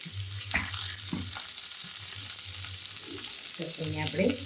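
Onion and tomato fry in a pan for chutney, giving a steady close sizzle with a low hum beneath it. Occasional stirring scrapes and taps come through the sizzle.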